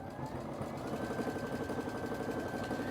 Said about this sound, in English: Josh, I know I'm sewing fast